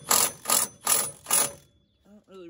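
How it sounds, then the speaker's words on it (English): A cordless impact wrench tightens a nut on a gas engine rig in four loud, evenly spaced bursts of rattling hammering about half a second apart, then stops, leaving a short spoken exclamation at the end. "let me use the impact here and get that nut good and tight"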